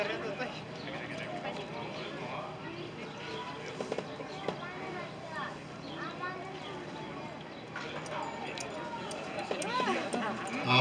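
Hooves of a charro horse backing up in the arena during a state charro championship horsemanship event, soft irregular clip-clop steps heard under steady commentary over a loudspeaker and crowd murmur.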